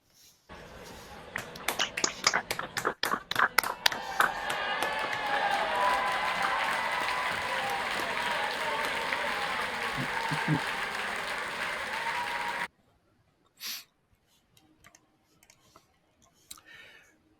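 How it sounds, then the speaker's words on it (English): A round of applause through unmuted microphones at a virtual graduation, starting as scattered individual claps that build into sustained clapping, then cutting off abruptly to near silence with a few faint stray sounds. "if I could ask you to unmute your microphones and a round of applause"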